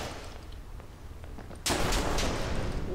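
Gunfire bursts in suddenly after a quiet stretch in 3079, a blocky voxel-style action RPG shooter, then continues as loud, dense, sustained shooting up close.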